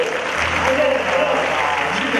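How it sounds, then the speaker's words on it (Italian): Audience applause at a live comedy show, a steady, full round of clapping lasting a couple of seconds, loud and close throughout. "Giulia Nino, buon applauso"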